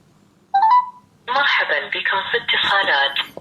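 XINJI N3 smartwatch placing a phone call through its built-in speaker: a short electronic dial tone, then a longer stretch of tinny, compressed ringing or call audio, close and fairly loud.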